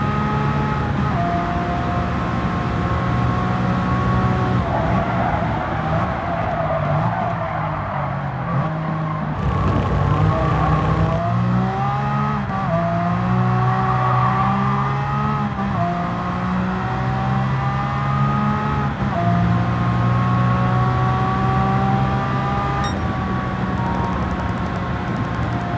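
Engine roar and tyre noise from a Nissan Silvia Spec R Aero S15 touring car racing around the Tsukuba circuit in Gran Turismo 7, with a steady loud drone, shifting revs through gear changes and a brief dip near the middle.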